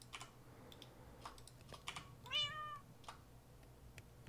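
A Minecraft cat meows once, a short, clear, rising and falling mew over soft background keyboard clicks, with no talking.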